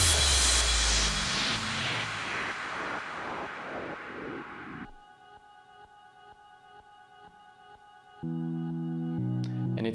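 Reversed reverb on a vocal syllable swells and fades into a bright wash, giving way to sustained synth tones and a louder chord near the end in an EDM track remake.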